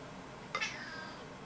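A pet cat gives a single short meow indoors, faint and close, against a quiet room background.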